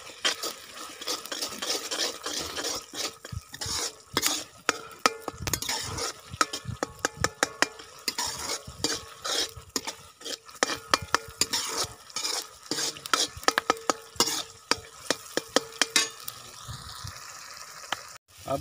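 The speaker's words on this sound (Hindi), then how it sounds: "अब 3 मिनट मसाले को हमने अच्छी तरह भून लिया।" Chilli and salt masala fries in a pan for chicken liver, with continuous rapid scraping and clinking of a spoon stirring against the metal over a low, fairly quiet sizzle.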